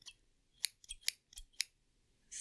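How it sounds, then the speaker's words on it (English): Small, fancy sewing scissors for cutting thread snip close up, four crisp, separate cuts spaced a fraction of a second apart, with a faint rustle at the end. "sewing scissors. Is that what they're called? But for like cutting thread."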